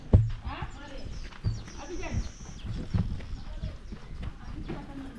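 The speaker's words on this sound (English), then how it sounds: "That donkey inside." Donkey at a roadside market in The Gambia, heard as close, uneven hoof clops and shuffling with a few louder thumps, amid busy outdoor ambience and people talking nearby.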